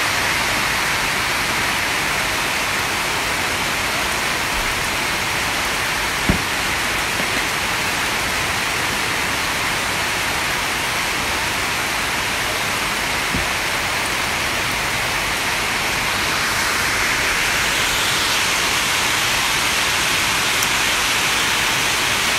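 Heavy rain pours down outdoors as a dense, constant hiss that holds at the same loudness throughout, with no voices and only a couple of faint knocks underneath.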